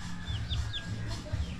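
Chicks on a farm give thin, high cheeping calls, several short chirps close together over a low steady background rumble.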